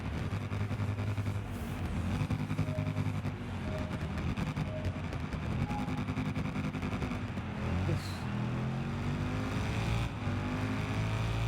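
A big motorcycle engine in the racing game Ride 6 hums steadily with a sustained, droning tone, rising and falling slightly in pitch as it revs, loud and continuous with no talk.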